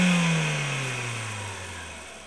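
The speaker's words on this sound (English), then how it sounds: "201 horsepower pushed by a 2-liter 4-cylinder engine that will jettison this car to 100" A Renault Clio Sport's 2-liter four-cylinder engine accelerates, its steady tone gliding downward as the car pulls away and fades, heard alone without talk.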